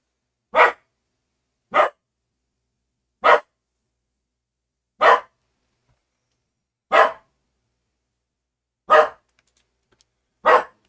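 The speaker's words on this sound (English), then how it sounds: "he's in the barking mode because I opened the door" A dog barks in single sharp woofs, seven of them spaced a couple of seconds apart, fairly close and alone with no talking.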